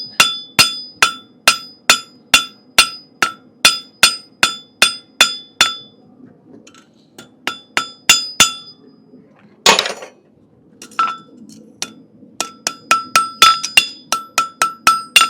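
A forging hammer rings sharply on hot steel over an anvil, drawing and levelling a clip in fast rhythmic runs of bright metallic strikes, broken by a pause with a brief hiss and scrape before the hammering resumes.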